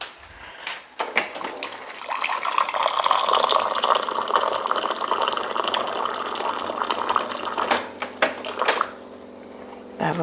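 A hot water dispenser runs a steady, close gush of hot water into a cup for about eight seconds, the tone rising as the cup fills, before the flow cuts off.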